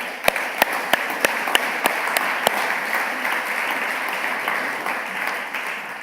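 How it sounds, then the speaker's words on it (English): An awards ceremony audience gives the judges a round of applause, a broad sustained wash of clapping with several crisp nearby claps early on, holding steady throughout. "Please join me in a round of applause to thank them."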